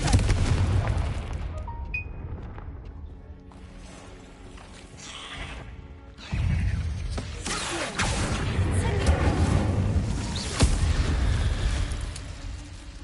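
In Hogwarts Legacy, the Confringo blasting spell goes off in deep, booming explosions, a heavy blast followed by a rumbling lull, then a second louder burst and a sharp crack near the end.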